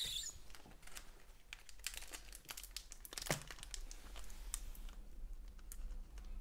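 Japanese Pokémon Eevee Heroes booster packs are torn open, their foil wrappers crinkling and crackling in quick irregular bursts close up, with a sharper rip in the middle and no talk over it.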